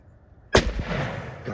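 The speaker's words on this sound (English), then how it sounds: "If you can get on him, you can shoot him, Gray." A single loud shotgun blast during a spring turkey hunt in Minnesota, sudden and close after near-silence, with a rustling echo trailing off.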